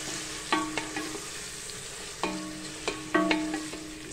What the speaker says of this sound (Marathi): हे चांगलं टोमॅटो आपण छानपैकी असं परतवून घेऊया.